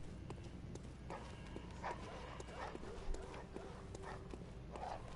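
Dogs bark and yip at intervals in a hunting video game, moderately loud, mixed with hoof-like clopping and a steady outdoor background.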